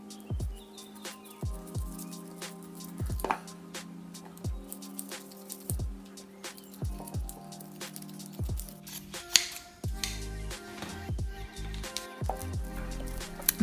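Scissors cut through rib knit fabric along a paper pattern in a steady series of soft, quiet snips, closely miked over a low background hum, with no one talking.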